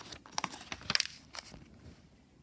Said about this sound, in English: I have to get better at page turning.